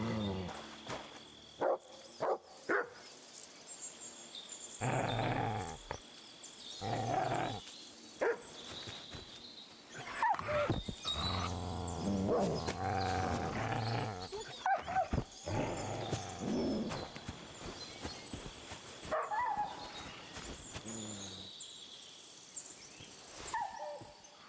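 A dog in the video game Kingdom Come Deliverance 2 barks in short, scattered bursts among game sounds and other noises, sometimes loud and close, sometimes quieter.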